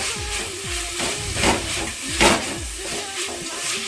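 Onions sautéing in a pan for beef masala give a steady hissing sizzle. Rhythmic scraping strokes of stirring recur about every half second, with a couple of louder hissing bursts.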